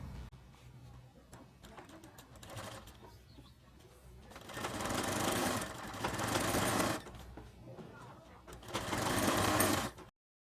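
Sewing machine stitching the sleeve onto a small child's shirt, running in several bursts of fast mechanical whirring separated by quieter pauses, close and fairly soft.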